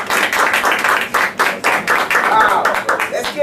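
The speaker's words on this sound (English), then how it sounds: "please give him a round of applause" An audience applauds a speaker at an entrepreneurship event: dense, steady clapping from many hands fills the room throughout, loud and close, with a few voices mixed into the ovation.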